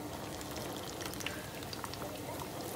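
Battered eggplant and zucchini slices fry in hot oil in a pan, giving a dense, steady sizzle with fine crackles and pops, close and continuous.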